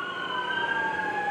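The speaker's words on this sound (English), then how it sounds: "I'm going to let the ambulance go by." An ambulance siren wails close by at a drive-in church service, a loud, steady, slowly falling tone that fills the short stretch with no talk over it.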